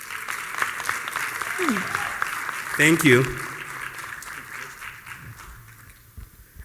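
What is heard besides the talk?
audience hand clapping for startup presenter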